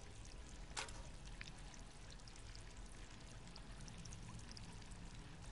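Water pours into a bucket in the video game Stray, a quiet, steady trickling stream with one brief splash near the start.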